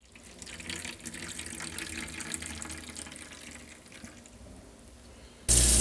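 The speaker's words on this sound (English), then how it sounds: "the wine's going to pass through the sock and into the bucket" Homemade red wine pours steadily through a filter sock into a bucket with a continuous close splashing trickle, ending in a sudden louder burst of rushing liquid.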